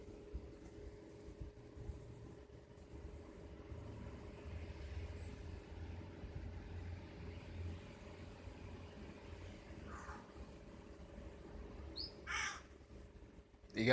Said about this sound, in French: C'est pas un corbeau ça?